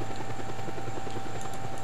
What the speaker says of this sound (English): Where there appears to be a helicopter.